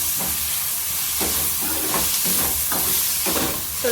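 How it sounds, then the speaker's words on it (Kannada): Tomato and masala fry in a pan with a continuous hissing sizzle, broken by repeated scraping strokes of a spoon stirring at an uneven rhythm, close and fairly loud. "ಚೆನ್ನಾಗಿ ಫ್ರೈ ಮಾಡಿ"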